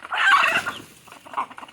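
Native country chickens cluck close by at feeding time, a loud burst of clucking followed by a quieter single call, with no talking.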